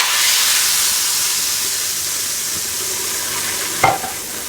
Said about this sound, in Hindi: हमने फाइनल में तड़का लगाया है